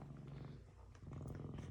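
A cat sitting in a sink after having a surgical wound flushed and treated purrs steadily, a low, close, rhythmic rumble, faint but continuous, with no one speaking.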